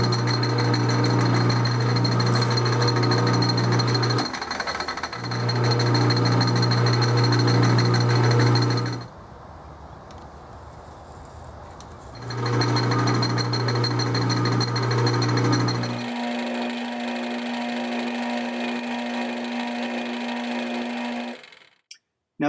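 A machine drill bores a 23/64 hole while machining an airsoft airgun adapter, a loud steady whine and grinding hum in three long runs separated by quieter gaps, ending with a higher-pitched spinning tone.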